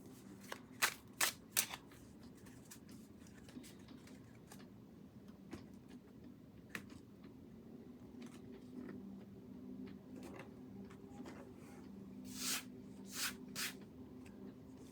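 Tarot cards being shuffled, with sharp riffling bursts early and near the end and quieter shuffling and handling in between, close and soft.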